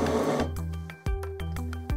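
A Brother DCP-375CW inkjet printer runs its colour printhead cleaning cycle, whirring steadily before dropping into a series of mechanical clicks and pulsing motor buzzes at close range, with no voices.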